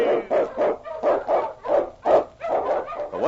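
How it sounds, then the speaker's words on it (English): Eskimo sled dogs, huskies on a Yukon trail, bark in a quick, steady run of about ten sharp, close barks with only brief gaps between them. "On King! On you Huskies!"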